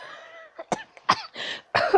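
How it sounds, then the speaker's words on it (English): A person coughs several times in quick, harsh bursts with short gaps between them, close and fairly loud, with no talk around it. "Oh, snap. I coughed."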